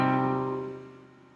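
A single minor chord is struck to illustrate minor tonality in a Baroque music lesson, then rings and slowly decays, clear and close, with no talking.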